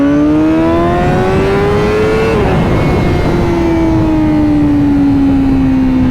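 A Honda CBR1000RR-R Fireblade accelerates hard, its engine note climbing loudly as it revs up, briefly dropping at a gear change, then rising again in a steady, close, high-pitched howl.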